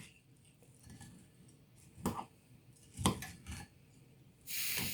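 Salt is mixed into rice flour for puttu in a bowl, making faint, sparse clinks and scrapes of a utensil, with a few sharper knocks and a soft rushing stir at the end.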